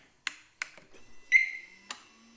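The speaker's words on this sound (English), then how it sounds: "You got 1 beep. It's disarmed." A Harley Davidson Smart Siren II alarm on a 2015 motorcycle gives a single short electronic chirp, set between a few soft mechanical clicks in an otherwise quiet space.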